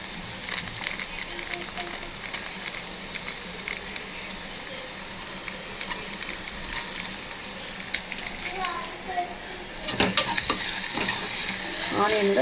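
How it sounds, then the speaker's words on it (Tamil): Onions frying with garlic and garam masala in a pan for a vegetable kurma give a steady soft sizzle with occasional stirring scrapes, growing slightly louder near the end. "ஆனியனோட ஃப்ரை பண்ணிடுவோம்."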